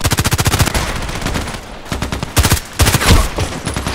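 Bursts of heavy automatic gunfire from a powerful weapon in the shooter Contract Wars, rapid loud shots in quick strings, a brief lull, then more close, punchy bursts.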